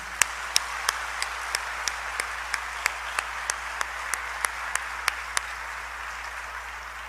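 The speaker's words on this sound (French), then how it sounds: "75 merci et un vibrant applaudissement" Audience at a university graduation ceremony applauding over a steady low room hum, with a single pair of hands clapping in a slow, even rhythm, crisp and distinct.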